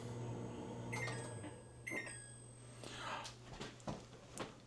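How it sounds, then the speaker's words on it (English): A newly installed over-the-range microwave oven runs with a steady low hum and fan whir close by, while brief clicks and clatters break in now and then. "And the microwave itself works."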